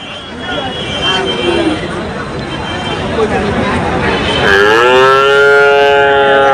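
A pair of Sahiwal cattle at a livestock market low loudly and close by, with a long drawn-out moo rising near the end over a busy background of crowd chatter and voices.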